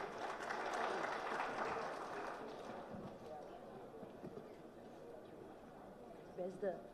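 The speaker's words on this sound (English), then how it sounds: "Can we please welcome her with a warm round of applause?" Audience applause welcoming a speaker to the stage at a startup conclave on animal husbandry and dairy, loud and dense at first, then thinning and fading over about three seconds into quieter room noise.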